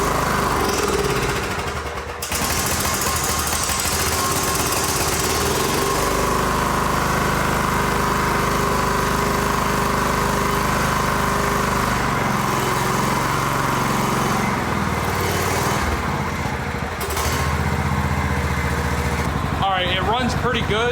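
A John Deere GT225 lawn tractor engine runs steadily and loudly close by, a continuous mid-pitched drone with a brief dip near the start, while someone talks over it.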